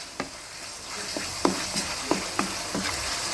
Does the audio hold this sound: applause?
no